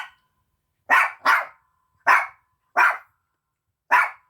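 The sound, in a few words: two dogs barking excitedly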